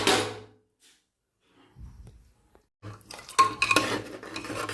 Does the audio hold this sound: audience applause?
no